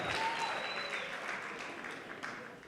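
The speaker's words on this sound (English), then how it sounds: "I think they deserve a round of applause as they exit the stage." Audience applause fills a hall as a school marimba band leaves the stage at an awards gathering, a steady dense wash of clapping throughout that fades slightly toward the end.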